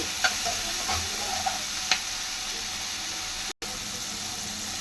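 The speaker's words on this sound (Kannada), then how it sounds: "ಒಂದು ರೌಂಡು ಮಿಕ್ಸ್ ಕೊಡೋಣ" Spinach and salt are stirred in a frying pan over a constant hiss of sizzling, with a few light spoon scrapes and a short break near the end, heard close up.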